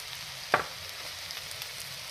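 Stuffed masala bhindi with crushed peanuts frying in a kadhai, spread out in the pan, with a soft continuous sizzle, one sharp clack of a spatula early on, and faint stirring sounds after.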